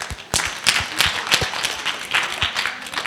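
Audience clapping at a work-readiness summer school session, scattered individual claps from a small group, fairly close and uneven in rhythm.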